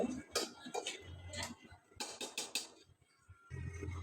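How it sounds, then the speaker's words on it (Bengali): A lid goes onto a cooking pot in a home kitchen, with a flurry of metallic clinks and clatters, a short pause, then more quiet rattling, all close by. "হোক ঢাকনা দিয়ে রাখি"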